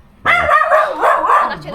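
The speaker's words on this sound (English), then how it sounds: "those dogs can be quite loud" A dog barks loudly at close range in a Philippine residential community, a sharp bark followed by a drawn-out whining yelp.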